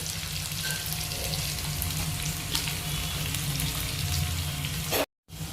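Onion and garlic frying together in a pan for jute leaf dal, giving a continuous close hiss and sizzle with faint stirring, then a sudden brief cutoff just before the end.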